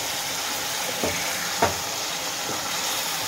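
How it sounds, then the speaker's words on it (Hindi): Powdered spices (coriander, chilli, turmeric, garam masala) fry with tomato paste in oil in a pan, giving a steady, even sizzling hiss broken by a couple of soft clicks, with no talking. "मसाले को भी अच्छे से भून लेंगे हम। टमाटर का पेस्ट डाल देते हैं"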